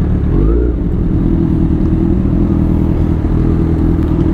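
A group of Honda motorcycles, including a CBR and automatic scooters, rides past in dense traffic, making a loud, continuous, close engine drone with low throbbing and clatter.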